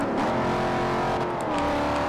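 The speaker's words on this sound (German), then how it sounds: "Ist ja auch ein V8-Kompressor, was da hinter uns hinterher säuselt." Supercharged V8 car engine racing in Forza Horizon, a loud continuous roar close behind with rising revs and a faint tire squeal, no talk.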